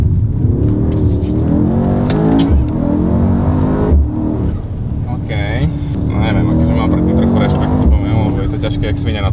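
A Mercedes-AMG GT 63 S E Performance accelerating hard with stability control off, its engine droning and rising in pitch beneath continuous close talking inside the cabin.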